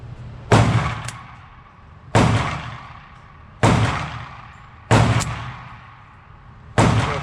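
Five sharp, loud pistol shots from an HK VP9 Match handgun firing MagTech ammunition, spaced unevenly about a second and a half apart, each with a reverberant tail that dies away before the next.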